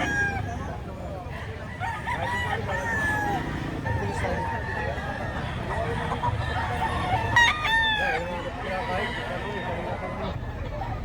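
A lemon sweater rooster, a gamecock for sale, crows loudly a few times among other clucking fowl, with voices talking in the background throughout.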